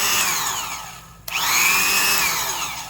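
A Black & Decker Super Duty 5/16-inch production D-handle drill, freshly greased, runs loud and steady with a high motor whine, cuts out briefly midway, then spins back up and holds a smooth pitch.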